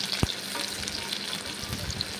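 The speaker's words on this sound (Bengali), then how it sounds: "তারপর পেঁয়াজগুলো ভেজে নিচ্ছি" Steady close sizzling of onions frying in hot mustard oil, a constant crackling hiss with a brief stirring knock near the start.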